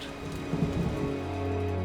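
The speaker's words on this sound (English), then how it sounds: "rain returns life to this small patch of desert" Rain falls steadily on a small patch of desert, a soft continuous patter with a brief denser burst near the middle and a low rumble toward the end.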